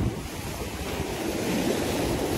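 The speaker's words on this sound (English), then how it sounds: "let's get off these rocks before the big waves come in" Sea waves breaking on coastal rocks during winter bass fishing, a continuous roaring surf with strong wind buffeting the microphone, loud and close, with no voices.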